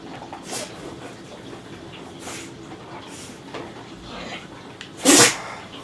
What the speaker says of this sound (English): You can sneeze all over the wall and not blink.